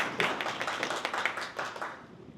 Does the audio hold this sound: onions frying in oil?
no